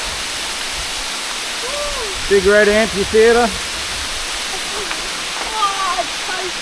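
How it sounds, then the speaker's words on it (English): A small waterfall in a gorge gives a constant, even rush of falling water, with a person's voice speaking briefly over it. "What a beautiful little waterfall."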